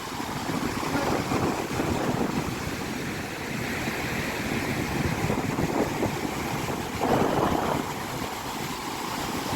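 Surf rolls onto Marina beach in Chennai as a constant broadband wash, heavily buffeted by wind rumbling against the microphone, with no voices.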